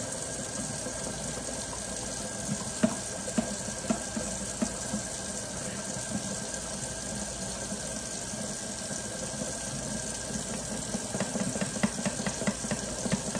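Water and grease from cooking spaghetti are poured into a kitchen sink drain, giving a steady rushing flow with faint gurgles and splashes, continuous and fairly quiet, with no talk.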